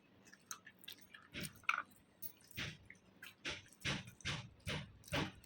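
Close, moist chewing from someone eating, with soft squishy bites coming in irregular bursts and quiet pauses between them.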